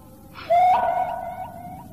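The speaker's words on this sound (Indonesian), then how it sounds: "Suara burung hantu." An owl hoots in a radio drama, a single drawn-out tonal call that swells and fades over quiet background.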